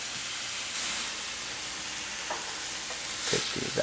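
Steak fries in olive oil in a hot cast iron skillet, a soft, even sizzle and hiss that carries on quietly, with a few faint knocks and shuffles near the end.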